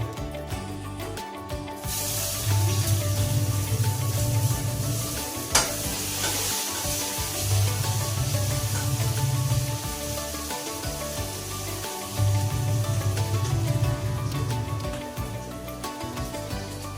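Onions sizzling in a hot pan on a home stove, a steady loud hiss with repeated bursts of stirring scrapes, close and without talk.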